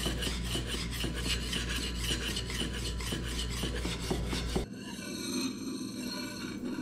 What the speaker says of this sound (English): I am going to round off the edges of the blade, which adds what's called a camber to the iron.